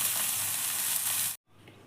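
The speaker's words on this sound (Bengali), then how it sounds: "1 পিস মাছ হয়ে গেছে, তো আর একটি উল্টে দিয়েছি।" Rohu fish pieces sizzle loudly and steadily in hot oil in a wok, a dense, close frying hiss that cuts off abruptly near the end, leaving a faint quiet sizzle.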